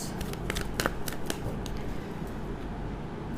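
Tarot cards being handled and drawn, quick papery flicks and snaps in short bursts, then softer rustling, close and moderately loud with no talking.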